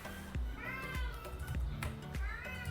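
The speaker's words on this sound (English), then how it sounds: "That's my cat in the background in case you can't hear her." A cat meows several times in the background, short repeated calls that sit under a man's speech during a cybersecurity tutorial.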